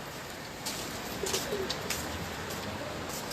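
Pigeons kept in a loft cooing softly and intermittently against a steady background hiss, with a few faint coos rising around the middle of the stretch.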